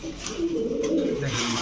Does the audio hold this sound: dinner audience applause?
no